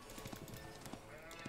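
Sheep bleat faintly in the Age of Empires 4 video game, with a few short calls over quiet game noise.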